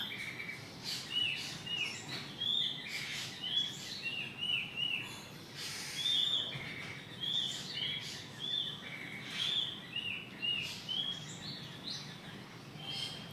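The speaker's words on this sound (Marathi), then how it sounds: "आणि पक्ष्यांचा आवाज येतोय बघा" Several birds sing from the trees outside a house, repeated bright chirps and short trills over a quiet backdrop, moderately distant and without talk.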